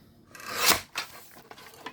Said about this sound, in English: Now I'm going to trim off this portion, and yes, I'm going to be using my trimmer, a guillotine trimmer, you can say.